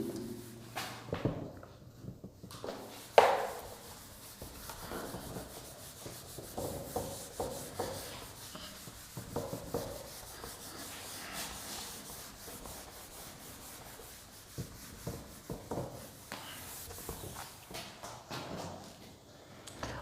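Writing is rubbed off a board in repeated soft scrubbing strokes, close and fairly quiet, continuing irregularly with small knocks and shuffles.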